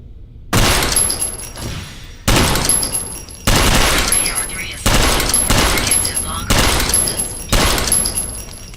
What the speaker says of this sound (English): Use your CE6 SMG to eliminate all hostiles